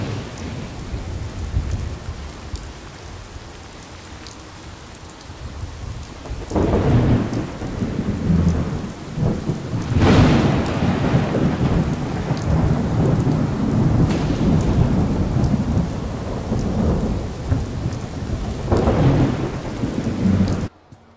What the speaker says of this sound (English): I'm gonna shut up for a second, let you guys hear that thunder